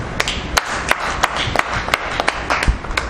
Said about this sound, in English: So a round of applause to that man.